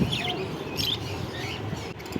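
Budgerigars chirp and tweet at a busy bird market, several small bright calls scattered over a low murmur of crowd background, fairly faint and close together.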